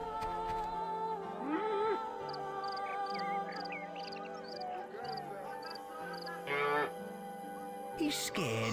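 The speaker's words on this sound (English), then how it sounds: "My stupid cow." A cartoonish cow creature moos in the god game Black and White 2, with drawn-out, wavering low calls over a synthetic backdrop of droning game music and chiming tones, loud and close.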